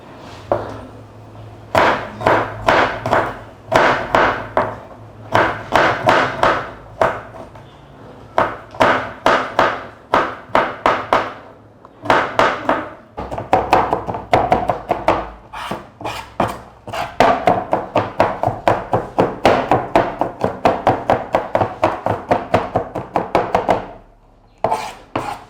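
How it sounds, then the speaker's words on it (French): A kitchen knife chops garlic on a cutting board after onions, in fast, dense runs of sharp taps with brief pauses between bursts, close and loud with no talking. "nous allons enfin hacher notre ail."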